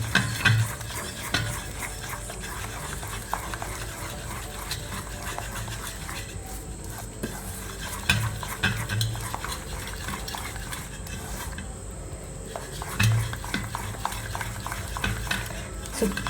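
A sugar syrup mixture being stirred in a pot until smooth for a Diwali dish: steady scraping and swishing of a utensil runs throughout, with faint sizzling and occasional clinks of metal against the pan.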